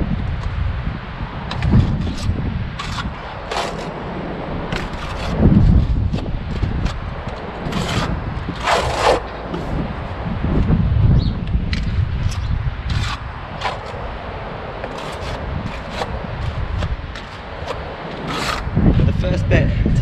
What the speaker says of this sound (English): take a little bit onto your corner of your trowel and really push it into the beads